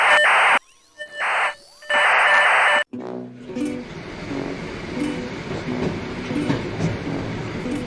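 A train rolls along the rails through remote Siberia with rhythmic clickety-clack and rumbling, preceded by a few loud tonal horn-like bursts at the start.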